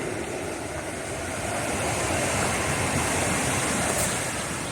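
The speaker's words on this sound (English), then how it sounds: "I really haven't seen rushing water like that for quite some time." A rushing stream beside the Appalachian Trail in Connecticut pours as a dense, steady roar of water that stays loud and unbroken throughout.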